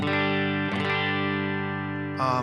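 Clean electric guitar played through a Matchless amp with no drive and a little pedal effect, a sustained bright chord ringing out loudly with a second strum partway through and a fresh attack near the end.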